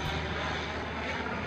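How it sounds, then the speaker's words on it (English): A propeller airplane flies overhead toward a nearby airport beside a demolished farm. Its engine makes a loud, steady drone that fills the whole moment. "The plane flying to the airport."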